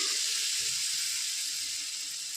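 Spiced water poured into a hot iron wok (kadai) holding pomfret fish curry gives a loud, steady hiss of steam and sizzle that holds for the whole stretch, close up with no voices.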